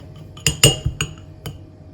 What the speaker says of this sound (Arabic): دابا غادي نزيدو هنا المعلقه ديال العسل